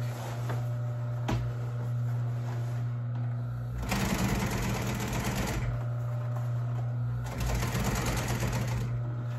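An upholstery sewing machine stitches a cover in two loud, fast-running bursts over a constant low motor hum, with quieter pauses and a couple of soft clicks between runs.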